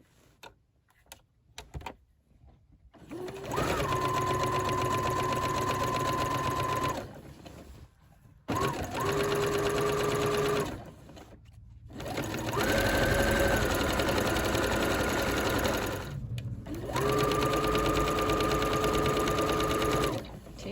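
A sewing machine stitches the lower hem of a coat in several bursts of rapid, steady whirring, separated by short pauses with faint clicks between runs.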